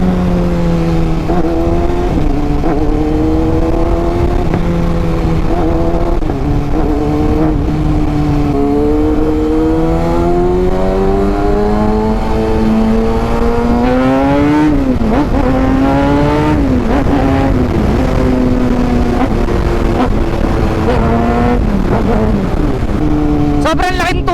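A Kawasaki Ninja ZX-6R 636cc sportbike engine revs hard while being ridden, its pitch climbing and dropping through gear changes into third without the clutch. The engine sounds loud and close, and a rider talks over it throughout.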